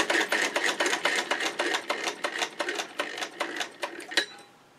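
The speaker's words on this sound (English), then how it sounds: "Now you get 3 stitches for every rotation of the hand wheel." A vintage Singer Model 99 sewing machine, turned by its hand wheel, stitches in quick bursts of rapid mechanical clatter with brief pauses, close and clear with no talk.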